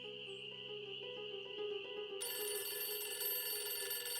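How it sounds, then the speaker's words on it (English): An old telephone rings in the Nancy Drew game Ghost Dogs of Moon Lake, a steady electronic trill over soft background music that turns brighter and fuller midway, with no talking. "Okay, I'm making a phone call or answering a phone call."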